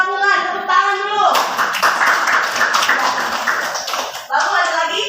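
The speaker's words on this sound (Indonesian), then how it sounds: "Tepuk tangan dulu." Students clap their hands in a classroom after being prompted, a burst of many claps lasting a few seconds, with a child's and teacher's voices speaking before and after.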